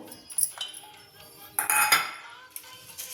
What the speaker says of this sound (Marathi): आपण हरभरे कुकरच्या भांड्यात घेऊ